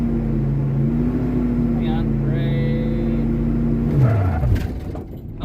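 A Ford Mustang engine with a freshly cleaned carburetor holds a steady loud drone around 3,000 RPM on a road, then bogs down as the pitch sags and falls near the end; a voice speaks briefly over the engine.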